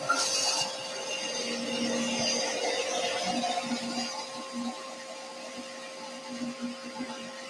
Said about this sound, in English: Just waiting for that blade to completely stop.